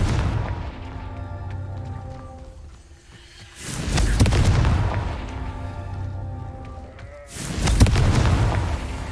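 Confringo fire spell explosions in Hogwarts Legacy, two deep booming blasts a few seconds apart, each bursting loudly over a low rumbling game background.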